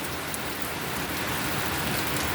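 Steady rain pours down on a rainy day, a dense, continuous hiss close by with no gaps, heard alone without any talking.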